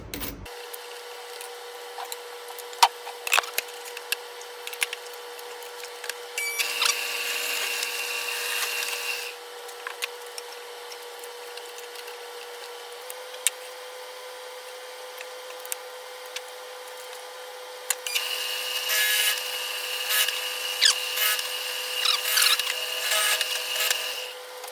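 A drill bores 3/8-inch bolt holes in wood in two sustained, loud bursts. A steady mechanical hum runs underneath, broken by occasional clicks and knocks between the bursts.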